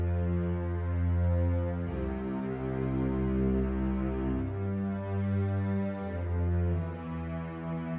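Double bass and cello playing the same sustained line an octave apart in Ableton Live, full, low and layered, long held notes shifting pitch every few seconds, with no voices over them.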